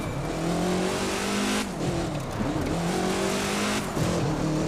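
A race car in The Crew 2 speeds along a snowy mountain road, its engine droning steadily and rising and falling in pitch through shifts and corners, with faint tire noise and no talk.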